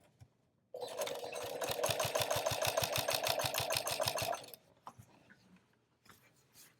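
A sewing machine stitching through quilt layers in a steady rapid run of needle strokes for about four seconds, then stopping, followed by faint handling noises.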